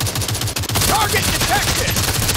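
Gunfire in the mobile shooter Modern Strike Online, a rapid automatic burst of loud, dense shots running throughout with faint game effects layered above.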